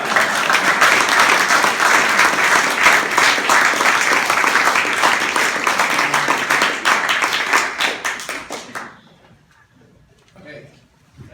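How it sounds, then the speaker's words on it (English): A crowd claps in sustained, dense applause for around eight seconds before it thins into scattered claps and fades to near silence, with a voice briefly audible afterward. "no, I was about to clap."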